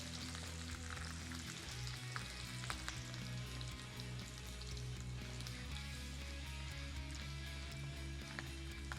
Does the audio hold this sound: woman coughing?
no